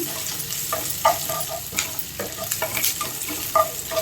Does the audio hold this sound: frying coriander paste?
yes